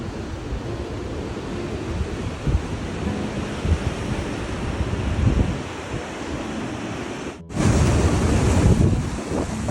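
Ocean surf rolls onto a sunny beach near an ocean pool, a loud continuous wash of waves with wind buffeting the microphone and a brief dropout before the roar swells back.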